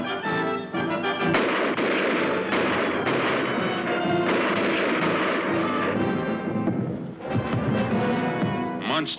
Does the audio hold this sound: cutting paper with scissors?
no